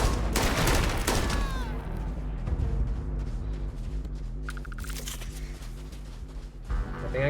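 Gunfire in the Starfield video game, a dense barrage of loud shots at the start that thins into scattered bursts and game effects over several seconds, with no voices.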